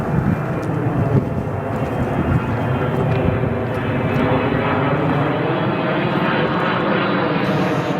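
An Etihad Cargo Boeing 777 freighter arrives at Chicago O'Hare, its jet engines giving a loud, steady roar throughout that eases slightly toward the end.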